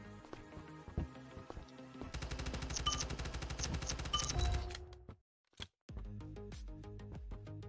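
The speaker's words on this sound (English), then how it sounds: "It's the charge assault rifle again." Charge assault rifle in the blocky shooter Voxiom firing a rapid, steady burst of automatic shots for about three seconds, loud and close. Scattered single shots and other game sounds come before and after a brief silence.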